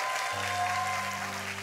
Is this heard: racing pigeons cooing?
no